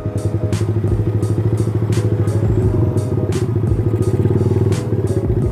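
A bored-up motorcycle engine with carburetor trouble runs close and loud with an uneven, sputtering putter, a sharp pop breaking through about once a second over the steady throb.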